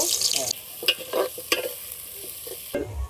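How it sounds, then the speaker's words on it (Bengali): Onions fry in oil for mutton biryani, sizzling softly while being stirred in a pan, with a few scraping clatters close by. "পেঁয়াজগুলো ভাজা করে নেব"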